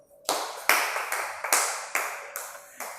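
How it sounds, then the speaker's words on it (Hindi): A group of students claps together in a classroom, a series of about seven loud, sharp bursts spaced at a slightly uneven rhythm, each one ringing briefly in the room before the next. "ताली बजाओ"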